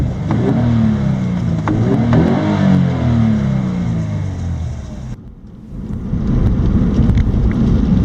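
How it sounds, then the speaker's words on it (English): The flat engine of a Subaru BRZ hums and rises through the revs on the road, with wind buffeting mixed in, loud and steady, briefly dropping to a lull before returning. "One of the benefits you get with this flat engine, it's very smooth, very efficient, and I think it sounds pretty good."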